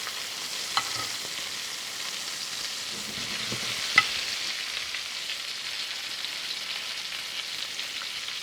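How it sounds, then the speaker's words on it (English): Steak frying in a pan while being turned and basted, a soft steady sizzle with faint spoon scrapes and one sharp pop, quiet and close, with no talking. "So you turn it and baste it on both sides."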